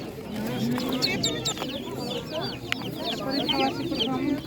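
Chickens, including young Spanish-breed chicks, cluck and chatter continuously at an outdoor animal market in Ivano-Frankivsk region, with a lively busy crowd murmur and people talking nearby throughout.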